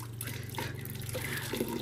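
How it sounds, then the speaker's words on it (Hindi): A dog drinks straight from a running water tap, a close, steady trickle and splash with small irregular lapping sounds over a low hum. "इसको ऐसा मजा आता है नल से पीने में"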